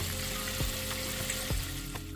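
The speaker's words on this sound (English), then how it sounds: "while our fish is frying in the background" Steady crackling sizzle of fish frying in hot oil, with a couple of soft clinks in the background, no voices.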